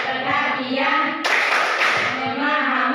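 Group clapping from a class doing a rhythmic clapping game, a single loud burst of many hands cutting in after a chanted call, with voices around it.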